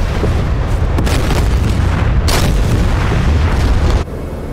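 Rocket strikes explode in a Vietnam War air operation, a continuous loud booming roar with heavy low rumble and a couple of sharper blasts, dense and sustained before dropping slightly at the end.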